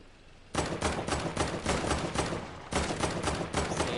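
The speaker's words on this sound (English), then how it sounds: "I hear shots." Rapid, dense volleys of video-game gunfire, loud and close, crackling almost without pause for several seconds after a quiet opening, with a brief dip midway before the shooting resumes.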